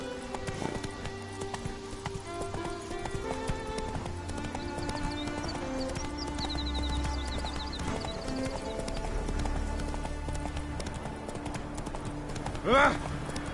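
Horse hooves clip-clopping at a steady gallop in the video game Witcher 3, layered under game music and talk, with a brief whinny near the end.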